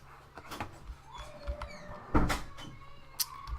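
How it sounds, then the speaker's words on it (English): In a Minecraft-style village video game, a door shuts with a sharp wooden clunk amid a few scattered knocks and clicks, fairly close and brief. "can you shut the door?"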